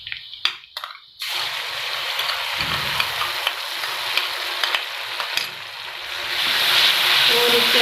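Onions, cumin seeds and ginger-garlic paste fry in a pan for an arvi masala, a loud continuous sizzle with a few sharp stirring clatters at the start and the hiss swelling toward the end, with no talking.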